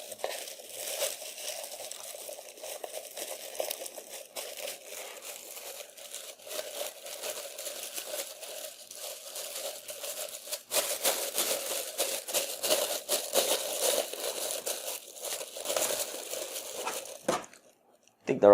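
Steady crinkling of a thin plastic bag close by, rustling continuously for most of the stretch before stopping abruptly near the end.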